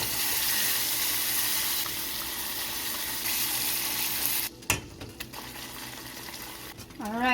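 Butter is whisked into hot caramel sauce in a pan: a steady, close sizzling hiss with faint stirring, broken near the end by a sharp clatter and scraping, with no talk.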